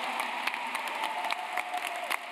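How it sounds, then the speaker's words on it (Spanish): Soft, steady applause from an audience at a tenth-anniversary event for Argentina's gender identity law, honoring a fellow activist; a faint, distant, even patter of many hands throughout. "Quiero un fuerte aplauso por la compañera Claudia Pía Baudraco"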